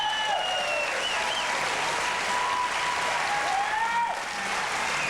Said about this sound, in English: Thank you for applauding my pain.